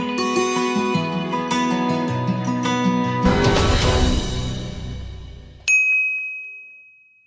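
Notification bell sound effect: a run of bright chiming dings and a shimmering metallic flourish, then one clear bell strike that rings out and fades, with no voices.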